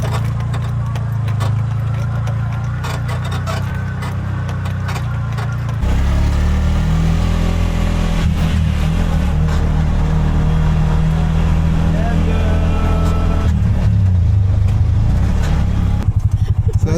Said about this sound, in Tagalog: Tumakbo ang makina!